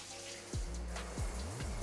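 Shower water running in a bathroom of an apartment in Vietnam, a steady hiss of spray with low thuds and splashes of water hitting the floor, close and continuous, with no talk.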